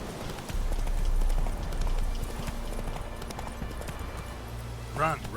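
Roach the horse gallops in The Witcher 3 video game with rapid, steady clip-clopping hooves under a continuous rumble, ending in a brief whinny-like cry near the end.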